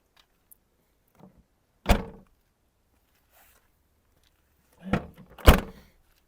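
Skoda Octavia 1.6 MPI door handled during a look into the cabin, giving a couple of separate dull thunks and clicks with quiet gaps between them, close by and with no talk.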